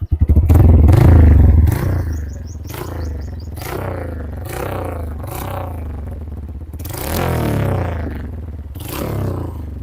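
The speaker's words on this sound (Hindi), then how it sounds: "अभी आपको इसका जो एग्जॉस्ट है इसका साउंड" Honda motorcycle fitted with a Yamaha YBR carburetor and aftermarket exhaust, revved repeatedly in loud close bursts with throaty rumble and clattering rises and falls, no talk.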